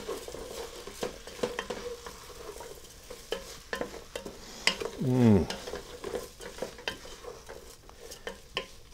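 Garlic and peppers sizzle in a pan while being stirred, a constant frying hiss broken by repeated sharp utensil scrapes and clicks, plus one louder clatter midway, with no talking.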